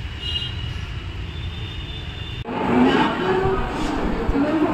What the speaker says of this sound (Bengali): মা ট্রেন ঢুকে গেছে।